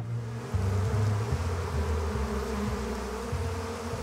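A bee buzzes loudly and close, a sustained droning hum that rises and falls in pitch as it moves around.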